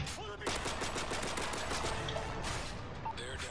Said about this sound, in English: I'm going to use my shotgun